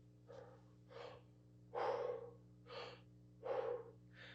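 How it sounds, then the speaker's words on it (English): Deep breaths drawn in through lips rounded in an O shape, a tuba player's technique: six airy inhales in an uneven rhythm, close and quiet, the longer ones fuller and rougher, with no talking between them. "if we breathe with an O and go"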